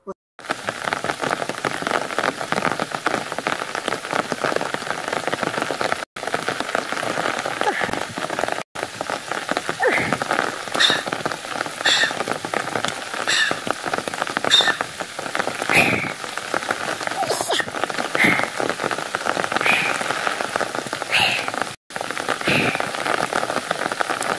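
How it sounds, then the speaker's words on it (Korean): Heavy early-autumn rain pours down like a midsummer downpour during an outdoor pool game, a steady dense patter and hiss of drops striking surfaces that continues unbroken throughout. "지난 토요일 본격적으로 가을을 알리는 비가 왔었죠"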